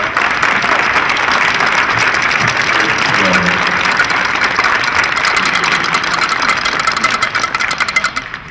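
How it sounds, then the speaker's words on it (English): Outdoor crowd at an anti-bullying walk/run rally clapping in a loud, continuous wash of applause with a faint engine hum underneath and brief voices mixed in. "she deserves a round of applause."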